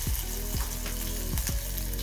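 Chopped green chilies, cumin seeds, chopped ginger and garlic sauté in hot oil for a cauliflower fry, a steady close sizzle broken by a few sharp stirring scrapes in the pan.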